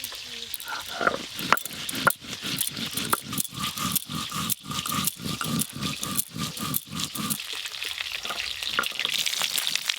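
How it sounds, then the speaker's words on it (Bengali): Pieces of snakehead fish fry in hot oil with a loud, close sizzle that surges in rapid rhythmic bursts as they are turned and stirred, then settles into a steadier crackle near the end. "সব মাছ ভালো করে ভাজা হয়ে গেল"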